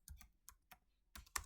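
Several quiet, separate keystrokes on a computer keyboard tap out in an uneven rhythm, with short pauses between presses, heard alone without speech.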